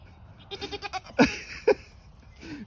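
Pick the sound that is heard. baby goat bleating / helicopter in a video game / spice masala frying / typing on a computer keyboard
baby goat bleating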